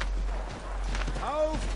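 Horse hooves in the video game Assassin's Creed 3 clip-clop faintly at a walking pace, joined by a brief tonal, voice-like sound near the end.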